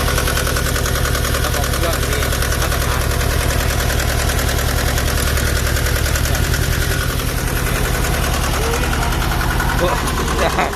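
A Deutz two-cylinder diesel engine idles in an old Japanese wheel loader with a backhoe, producing a loud, close, steady chugging knock that runs unbroken for the whole stretch.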